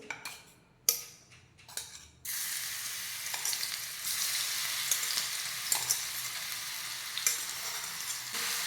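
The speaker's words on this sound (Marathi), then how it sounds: "आता तेल चांगलं गरम झालं आहे तर मिक्सरमध्ये वाटलेली मिरची आपण त्याच्यामध्ये टाकून घेऊ" Green chilli paste, ground in a mixer, hits hot oil with a sudden loud sizzle that holds steady after a few sharp clinks of utensils, with occasional spoon scrapes over the continuous frying hiss.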